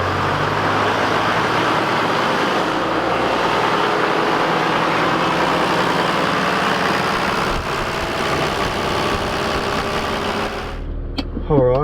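Freshly built Toyota 1HD-T turbo diesel in an 80 Series Land Cruiser, a steady, loud, close engine drone with varying revs and traffic-like rumble, ending with a sharper burst of sound.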